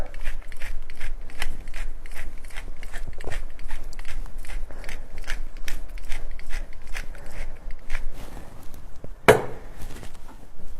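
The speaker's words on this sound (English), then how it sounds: "freshly ground black pepper" A pepper mill grinds black pepper over shrimp, a close, steady run of rapid crunchy clicks in an even rhythm, lasting about ten seconds.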